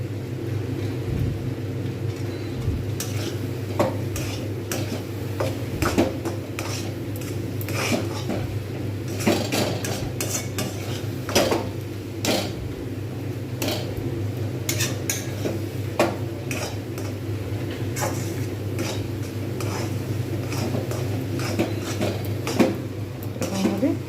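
A utensil stirs rice being dry-roasted in a thick, heavy pan for rice laddoos, giving steady scraping and clinking strokes against the metal under a low background hum.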